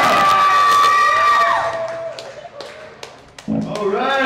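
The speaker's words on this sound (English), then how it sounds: "You guys are a fucking lively crowd" A live metal concert crowd cheering and shouting after a song, loud at first and fading, with a voice over a microphone addressing the audience toward the end.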